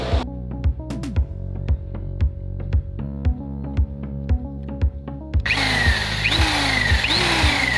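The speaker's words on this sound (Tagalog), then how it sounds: "Ito naman ang ating bubutasan." A power drill bores a hole through a steel motorcycle handlebar on a Rusi Titan 250, with rhythmic clicking pulses over a low hum before the bit bites in with a harsh, grinding whine.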